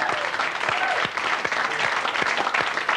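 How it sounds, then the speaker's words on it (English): Studio audience claps on a late-night television talk show, a dense, steady burst of applause that stays even throughout the short moment. "Big round of applause for the..."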